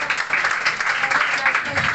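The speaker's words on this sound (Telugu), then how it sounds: "చప్పట్లు కొడతాం" Audience applause at a December church meeting, a steady wash of clapping from many hands sustained evenly throughout with no pauses or gaps.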